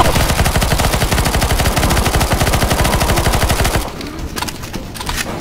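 Rapid, loud automatic gunfire from CS:GO zombie escape, a dense unbroken burst of shots lasting several seconds before cutting off into quieter scattered game noise.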